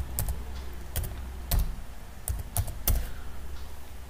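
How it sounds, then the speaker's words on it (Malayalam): Fingers type on a computer keyboard while filling in an online income tax return form, giving a handful of sharp, irregularly spaced key clicks and clacks close by in a quiet room. "working in the capacity of self എന്ന് ടൈപ്പ് ചെയ്യുക"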